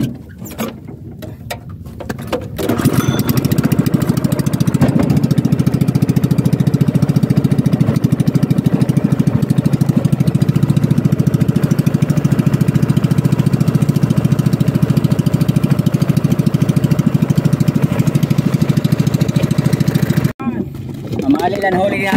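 A motorcycle engine runs close by in a loud, steady drone for most of the stretch, starting after a few seconds of quieter scraps of sound and cutting off near the end.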